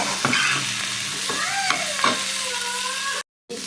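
Masala for chicken gravy fries in a pan with a steady close sizzle, broken by a few scraping stirs, and no one speaks over it.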